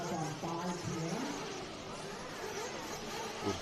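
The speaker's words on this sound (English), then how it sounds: "I hear the sound of nitro in the distance" Small nitro engines of 1/8-scale RC trucks buzz and rev in a steady, distant drone during a dirt track race, with brief pitch rises as they accelerate.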